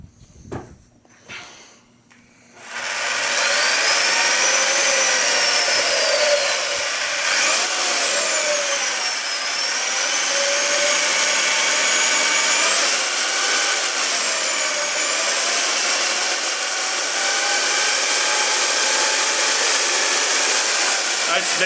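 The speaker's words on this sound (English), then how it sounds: "I'll mix it up really good again here with my power tool." A handheld power tool whirs loudly and steadily as it churns thick gelled homemade liquid laundry soap. It starts after a few quieter knocks and holds a sustained drone with slight shifts in pitch.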